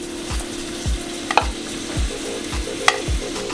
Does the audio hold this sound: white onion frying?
yes